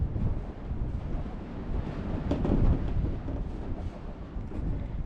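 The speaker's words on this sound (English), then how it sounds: "The wind is quite strong." Strong wind roars across the open ground of the Temple of the Moon in northern Peru, a constant loud rushing buffet against the microphone that surges midway, with no voices.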